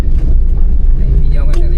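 A Suzuki minivan engine fitted with a power jet, revving loudly and continuously at close range, a steady low roar with a brief rise in pitch near the end, with a voice speaking over it.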